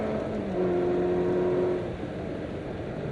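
Ferrari on the Silverstone circuit accelerating under throttle, a steady near engine roar with rising tone that drops back as it shifts up a gear.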